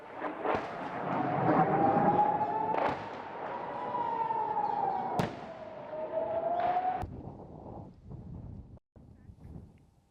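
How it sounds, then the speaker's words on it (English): Explosions from air defense intercepting a Hezbollah rocket barrage over northern Israel, several sharp booms and cracks in the open air over a wailing siren and wind noise, with a few louder bangs near the end. "Explosions were heard over northern Israel as air defense systems intercepted a barrage of Hezbollah rockets."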